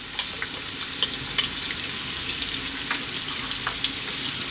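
Onion and garlic frying in a pan over above-medium heat for chicken kabsa, a steady close sizzle with small crackles and pops throughout, no talking.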